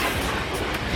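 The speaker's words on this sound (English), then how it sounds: "Train interrupting my vlog." A train passing close by in London, a loud continuous rumbling roar with a faint rhythmic clatter of wheels throughout the short stretch.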